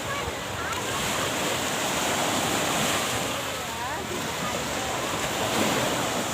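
Sea waves wash onto the beach at Cha-am, Phetchaburi, a steady broad surf roar with wind blowing across the microphone, continuous and fairly loud throughout.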